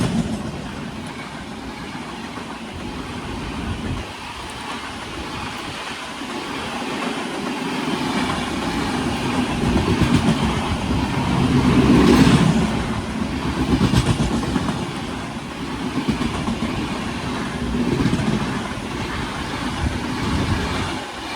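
Trains rumble past a halted superfast express on the Kolkata–Varanasi line, a steady loud roar with rhythmic clatter that swells in the middle and fades, heard from inside the stopped carriage.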